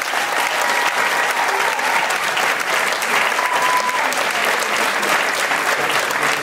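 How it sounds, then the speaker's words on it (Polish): An audience applauds festival winners at the final gala of the Danuta Rinn Festival, a steady, full-bodied clapping that lasts throughout, loud and unbroken. "To są nasi zwycięzcy, proszę, brawo."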